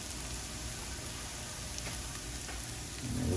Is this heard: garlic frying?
yes